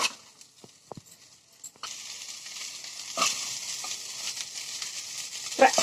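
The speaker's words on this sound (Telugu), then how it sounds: "రైస్ అయితే ఇంకా ఫ్రై చేసేసుకోవాలి ఫ్రెండ్స్" Egg and rice for a simple fried rice are stirred in a pan, starting with a few sharp utensil clacks, then settling into a steady close sizzle with occasional scrapes and no talking.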